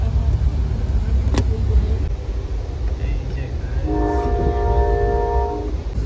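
Steady low rumble of a moving passenger train heard from inside a carriage, crossing from Oklahoma into Texas, with a brief sustained horn tone in the middle and no talking.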